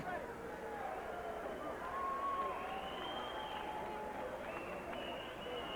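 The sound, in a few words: boxing arena crowd applauding both fighters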